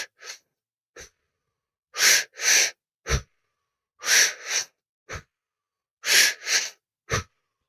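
Slow, deep breaths, drawn first into the stomach and then the chest, come as paired airy inhales and exhales in a steady rhythm, close and clear with quiet pauses between them.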